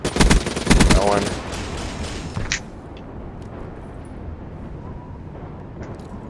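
Bursts of rapid automatic gunfire in a competitive 2v2 Black Ops 3 match, loud and close for the first second before tapering into lighter game sounds.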